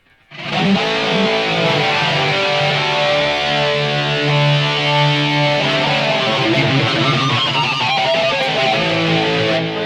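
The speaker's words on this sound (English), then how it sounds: "Let's go ahead and put on the Boss OD1 pedal." Crunchy overdriven electric guitar chords through a Boss OD-1 overdrive pedal, loud and close, held and sustained with a thick, saturated tone, played alone without voices.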